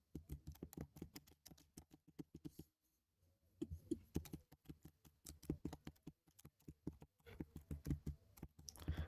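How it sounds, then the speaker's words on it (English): Rapid, close keystrokes on a computer keyboard clatter in quick irregular bursts, pausing briefly before resuming at a steady pace, quiet and alone without speech. "my typing of the keyboard is a bit loud"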